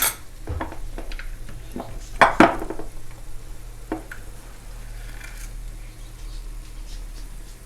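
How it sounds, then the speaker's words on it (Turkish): Cracked eggs are stirred in a bowl, giving quiet swishing with a few sharp utensil clinks against the bowl, the loudest cluster coming about a third of the way in. "Yumurtalarımı kırdım. Şöyle bir karıştırıyorum."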